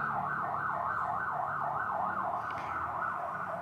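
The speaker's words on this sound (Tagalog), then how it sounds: "palabasin natin yung ambulance, maingay" An ambulance siren passing on a street wails steadily in a rising and falling pattern, loud and close, with no voices over it.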